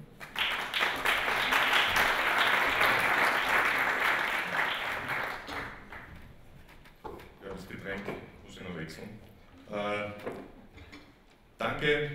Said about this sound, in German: Begrüßen Sie Magister Gerhard Schilling.